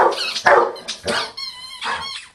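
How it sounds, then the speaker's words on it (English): A big dog barks repeatedly during a training session, with loud close barks in an irregular rhythm alternating with voices talking. "So why does he keep barking at your dad?"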